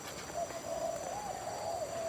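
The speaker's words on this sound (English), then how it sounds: "you can hear many birds" A steady wavering call sounds close by over a constant background hiss, like a bird cooing or hooting continuously, with faint other calls around it, in a large bird park in Kuala Lumpur.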